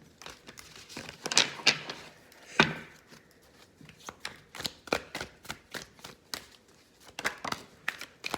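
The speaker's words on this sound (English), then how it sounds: "I'm just going to keep shuffling because I didn't shuffle enough." Tarot cards are shuffled by hand in a quiet room: a run of crisp, papery riffles and soft slaps in uneven bursts, close and fairly faint, with no talking.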